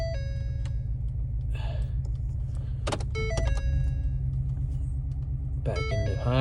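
A 2015 Ford F150 pickup in 4x4 low range gives a steady, close low engine rumble throughout, with brief whining and clunking mechanical sounds as it shifts into reverse, and no talk.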